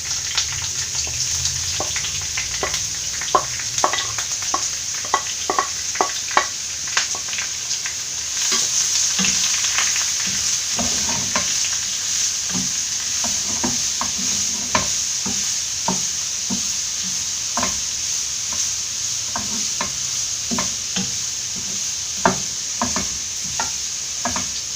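Green chilli and grated papaya for a Kerala-style papaya thoran stir-frying in a pan, with a steady hiss of sizzling oil broken by frequent scraping and clinking of a spatula, up close.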